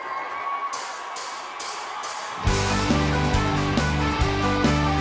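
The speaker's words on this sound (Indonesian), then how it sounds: "marilah kita memuliakan Tuhan dengan sorak-sorai dan tepuk tangan" A church congregation cheers and claps during a worship service. Clapping bursts and shouts come first, then loud band music takes over partway through and carries on under the crowd.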